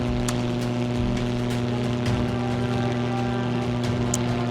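WWII fighter plane engines roar in a Battle of Britain PC flight game, a loud, steady, droning propeller hum that holds unbroken throughout with no talking.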